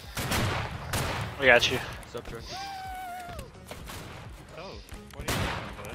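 Musket volleys crack in the Civil War video game Battle Cry of Freedom, with a few loud, sharp shots spread across the moment, some distant, as players talk over voice chat.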